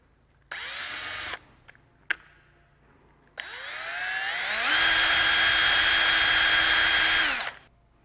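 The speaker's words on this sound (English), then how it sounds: "I'm ready to drill the panel." A power drill, fitted with a countersink, works on an aluminum instrument panel for a Zenith Super Duty kit aircraft: a short whining burst, a tap, then a longer run that rises in pitch and holds steady before stopping, close and loud.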